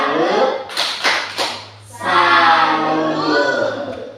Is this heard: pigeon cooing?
no